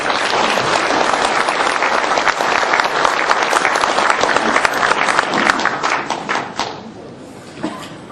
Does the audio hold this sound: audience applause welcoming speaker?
yes